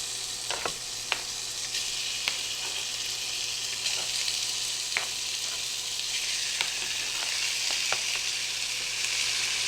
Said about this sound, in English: You'll hear that nice sizzle.